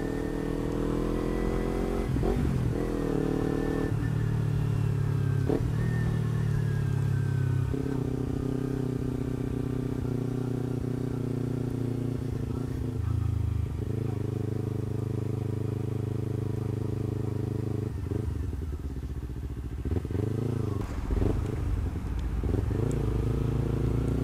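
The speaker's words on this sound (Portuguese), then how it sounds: "Só o barulho das ruas e da moto." Kawasaki Ninja 250 with an aftermarket exhaust and no dB killer, riding through city streets: a steady twin-cylinder drone with repeated revving rises and gear changes, loud and close, under traffic noise.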